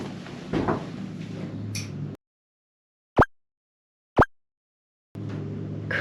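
A heavy cell door in an old gaol in Albany is shut, giving two sharp, loud metallic knocks about a second apart in near silence, with faint room noise before and after.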